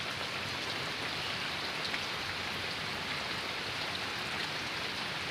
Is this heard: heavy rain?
yes